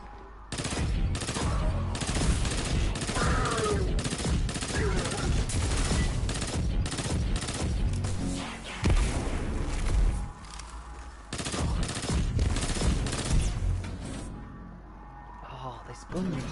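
Sustained automatic gunfire from a weapon in the Destiny 2 video game, rapid bursts held down almost continuously, loud and dense with game effects and voices layered over it, a brief pause near the end.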